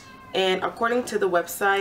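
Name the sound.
cat meowing in the background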